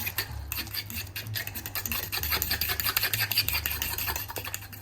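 A whisk beats fig anchoïade as olive oil is drizzled in to emulsify it like a mayonnaise, giving a fast, steady scraping and clicking of metal against a bowl, close and continuous with a low background hum.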